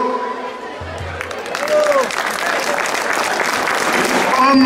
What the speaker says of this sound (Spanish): En primer lugar, vamos a darles un aplauso.